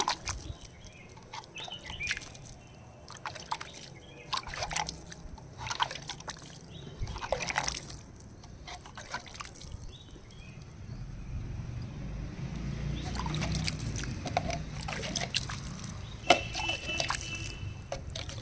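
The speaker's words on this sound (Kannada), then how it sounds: "ಇದಕ್ಕೆ ನೀರನ್ನ ಹಿಂಗೆ ಕೈಯಲ್ಲಿ ತೆಗೆದು ಹಿಂಗೆ ಚುಮ್ಕ್ಸೋಣ" Repeated bursts of splashing water scattered by hand onto terrace-grown greens, close by, with a continuous wetter rush in the later part; birds faintly in the background.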